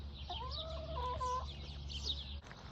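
Hens clucking in their backyard coop, a few soft rising and falling clucks and warbles at moderate distance over a steady low hum.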